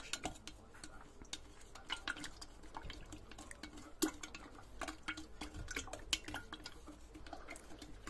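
Strawberry cheong syrup, strawberries macerating in sugar, being stirred: soft, irregular scraping and faint liquid clinks at close range, fairly quiet and steady throughout with a few sharper taps.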